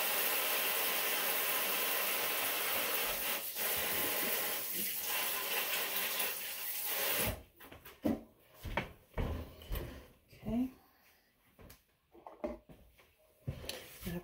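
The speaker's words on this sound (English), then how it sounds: "I'm just going to wash my hands off" Tap water runs steadily while hands are washed at a kitchen sink during meatloaf preparation, a continuous hiss for about seven seconds, then the flow stops and scattered clinks and handling sounds follow.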